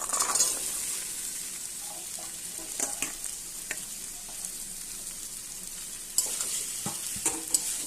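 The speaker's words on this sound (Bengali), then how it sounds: "আদাটা আমার ভালো করে ভাজা হয়ে গেছে এবার আমি দিয়ে দেব সেদ্ধ করে রাখা আলু এবং মটর" Ginger fries in a pan as boiled potatoes and peas are added, making a constant soft sizzle broken by occasional spatula scrapes and clinks against the pan, with no talking.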